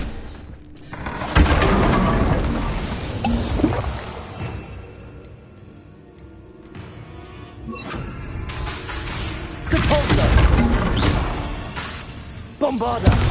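A Bombarda explosion spell in the Hogwarts Legacy video game, with several crashing, shattering blasts and debris scattering across the stretch, loud bursts separated by quieter rumbling lulls, with speech mixed in.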